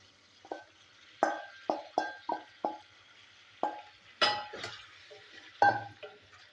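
Potatoes and green banana pieces drop into spiced masala in a pan, with a series of distinct clinks and clatters against the pan and soft sizzling between them.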